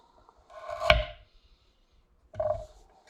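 Knife cutting food on a board while cooking teriyaki chicken, two separate dull chopping strokes close by, the first with a sharp knock of the blade against the board, in a quiet room without talk.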